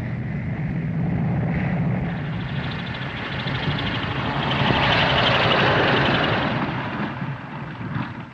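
A propeller aircraft, in a late-1930s setting, drones steadily and loudly, its engine roar swelling midway and then easing slightly, with rushing wind noise and no talk.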